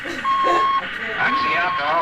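An electronic beep in an old-time science fiction radio drama sounds as a steady tone that repeats in short bursts, mixed with other effects and produced sound.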